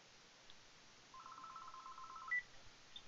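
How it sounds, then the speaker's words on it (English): A series of telephone keypad dialing tones sounds during an incoming call on a live stream: a short even run of beeps, followed by a brief sharper chirp over faint background hiss. "We got a phone call."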